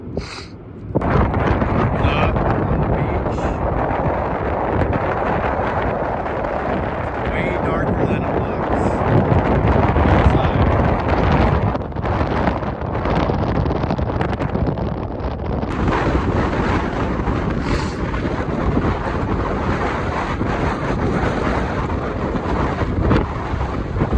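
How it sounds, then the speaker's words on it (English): Strong wind on a Washington beach buffets the microphone in a steady, roaring rumble that barely lets up, with faint surf-like wash underneath. "It is windy out here."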